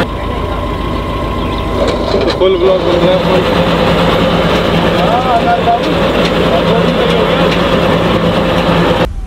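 A tow truck pulling a stuck Tata Safari SUV out of thick mud, its heavy engine running loudly and steadily throughout while someone talks over it.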